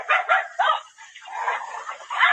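A dog gives a run of high, yelping barks and whining cries. They come close and fairly loud in uneven bursts, with a longer wavering whine in the middle, as if mimicking a voice.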